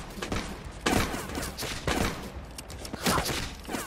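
Volleys of black-powder muskets crack in a Bannerlord Guns & Powder mod battle, dense overlapping shots in bursts around one, two and three seconds, with background battle noise between.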